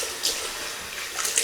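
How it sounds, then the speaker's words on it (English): Water splashing in brief, soft bursts as a face is rinsed after a shave with a shavette, close by with no talking. "Rinse the face."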